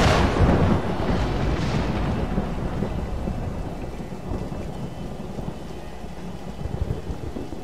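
Heavy thunder rolls out loudly at the start over steady rain in the Tomb Raider: Definitive Edition game, then fades to a continuous rainfall hiss with low rumbling.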